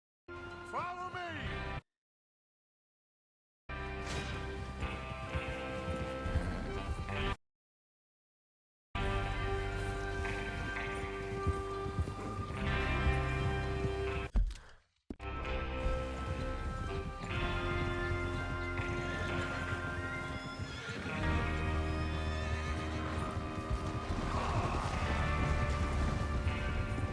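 Horses gallop and neigh during a train-robbery ride in a Western video game. The hoofbeats run steadily under a dense, loud music score, broken by two brief silent gaps.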